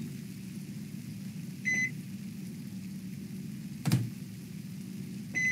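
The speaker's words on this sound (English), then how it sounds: "It's a microwave." Microwave oven in Cooking Simulator VR humming steadily, with short electronic beeps near the start and end and a brief click in between, close and clear.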